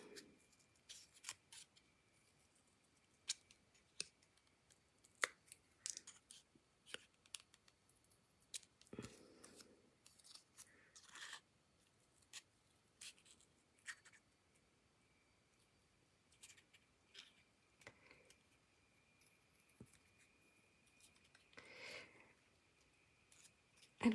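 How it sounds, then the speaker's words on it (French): Scissors snipping through a paper card, cutting out its inner window: quiet, irregular close clicks and crisp snips scattered over a near-silent background, with no talking. "Et on va découper"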